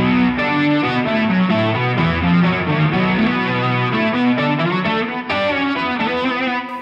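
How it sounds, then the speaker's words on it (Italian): Electric guitar played through a Boss SY-1 synthesizer pedal set as a pitch shifter, giving a thick, harmonized and warbling wash of shifted notes over continuous playing, loud and close with no voice. "adesso il depth si è trasformato in un pitch shifter praticamente, quindi qui vado a cambiare proprio l'intonazione di quello che faccio"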